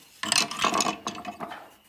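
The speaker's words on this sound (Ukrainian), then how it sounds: "потім свердлю два отвори" A drill bores holes into a wooden piece while a rake is being built, heard as one short, close, rough scraping burst that rises and then fades over about two seconds, with no talking.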